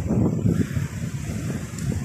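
Wind buffets the microphone in a steady low rumble, close and continuous, with no voices heard.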